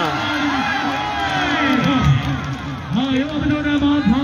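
A crowd at an outdoor kabaddi match cheers and shouts continuously, a dense roar of many voices with whoops rising and falling, while a voice calls out over it; no distinct clapping stands out.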